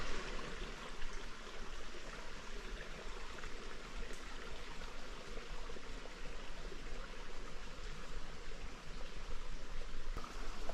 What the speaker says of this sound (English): there's a pretty nice water source that we cross